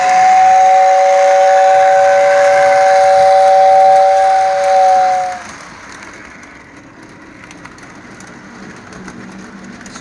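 A model train's steam whistle sounds loud and steady for about five seconds as the locomotive emerges from a tunnel on a layout, then cuts off, leaving a faint hiss and room noise.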